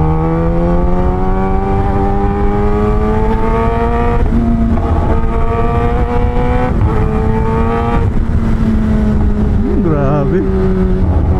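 Kawasaki ZX-10R sport motorcycle ridden at speed, its engine note close and loud with smooth rising pitch sweeps and short shifts between gears, wind rushing over the rider throughout.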